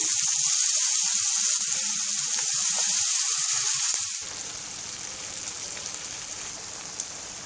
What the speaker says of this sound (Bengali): এবার আমি চুলা হিটটাকে লোতে রেখে দিয়ে দিচ্ছি মরিচ, সেই মেখে নিয়ে মরিচগুলো দিয়ে দিচ্ছি। নেড়ে চেড়ে নিচ্ছি।